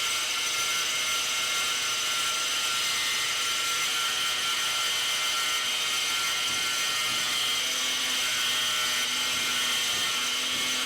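Mechanic Slider 45 Pro tile cutter with its disc slicing through ceramic tile, a steady high-pitched whine with grinding texture running continuously throughout at close range, with no talk.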